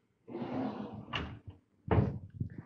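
Drawers in a student accommodation room slide open and shut, giving a soft rolling scrape and then a couple of close wooden knocks and thuds as they close.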